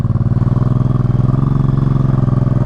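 A Honda Shadow motorcycle engine idles close by with a steady, throbbing putter, holding a fairly constant pitch throughout.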